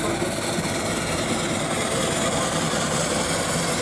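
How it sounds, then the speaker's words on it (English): A steam engine running at a steam rally at Tinkers Park gives a loud, steady, continuous rumble with a broadband hiss of escaping steam, holding unchanged and close by for the whole stretch. "The engine actually is underneath, that's where the steam's coming out."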